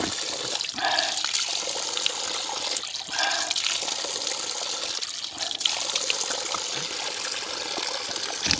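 Cold spring water flows steadily from a water source near the Batad Rice Terraces, splashing and trickling close by, with brief pauses where hands or a cup interrupt the stream.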